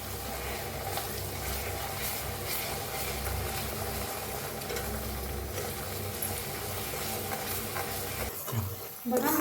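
Finely chopped onion roasting with asafoetida in a pan, a continuous close sizzle with faint scraping that shifts near the end.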